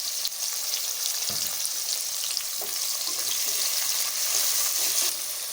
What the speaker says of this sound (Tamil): வெங்காயம் நல்லா பொன்னிறமாக வதக்கணும்.